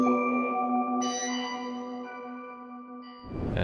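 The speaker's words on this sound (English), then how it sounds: "So it's from Keyscape. It's a celesta simple." Celesta preset from Keyscape playing a simple melody alone, bell-like sustained notes layered and ringing, a new note entering around each second, ending on a brighter, busier chord.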